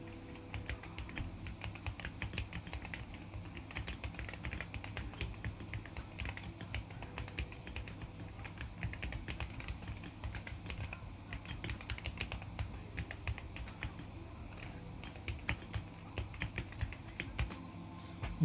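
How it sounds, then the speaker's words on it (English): Quiet, steady typing on a Wooting 80HE keyboard fitted with Lekker 45 HE switches, a continuous run of soft, muted keystroke clicks with no talking. "Let's do some typing test sounds and see what it sounds like."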